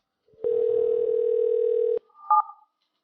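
Telephone dial tone on a chatline phone line: a steady pure tone held for about a second and a half, cut off, then followed by a short higher double beep.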